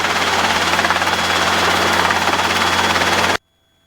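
A Robinson helicopter taxiing slowly gives a loud, steady rotor and engine drone with a rapid rhythmic chop, heard close up until it cuts off abruptly near the end.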